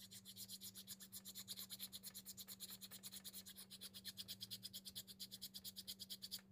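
A knife pocket clip being filed to shape a ramp, heard as a steady run of rapid, rhythmic rasping strokes, close and fairly quiet, with no talking.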